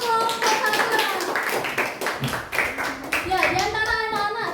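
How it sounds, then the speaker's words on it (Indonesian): Classroom clapping for a group of schoolchildren after their presentation, a brisk patter of many small hands with children's voices and chatter mixed in, fairly close and steady. "tepuk tangan untuk kelompok 1"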